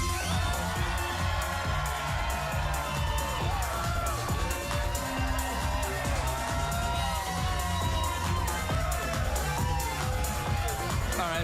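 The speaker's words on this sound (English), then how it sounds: "There's no need to give yourselves a round of applause." A late-night talk show studio audience applauds and cheers: dense, continuous clapping with excited shouts, holding at an even, loud level throughout without a break.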